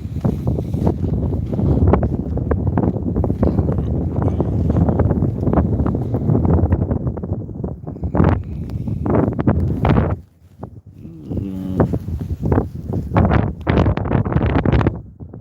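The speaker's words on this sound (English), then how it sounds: "It's not the snow that's killing it, it's just the wind." Strong wind buffeting the microphone during a snowstorm walk in Toronto, a loud, continuous roar with gusting surges, a brief lull near the middle, then renewed blasts.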